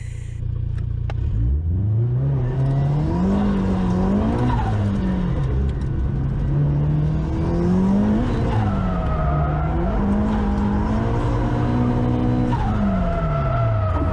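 A car on Accelera 351 Sport GD tires, size 245/40/17, laps a track in a drift tire test, its engine droning loudly and rising and falling in pitch as it revs, with tire squeal throughout.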